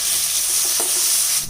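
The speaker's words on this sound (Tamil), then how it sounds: "இப்போ இதிலேயே நறுக்கி வச்ச தக்காளி சேர்த்துடலாங்க." Chopped tomatoes are added to onions, coriander and mint frying in a pan, giving a loud, continuous sizzle with brief stirring scrapes, close up and alone, no speech.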